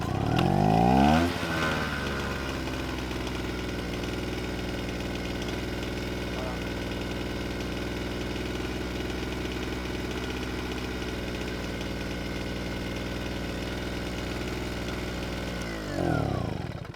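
A small 1000-watt portable generator fires up on a hot start and settles into a steady mid-pitched idle that runs on continuously, loud and close, before cutting off at the end.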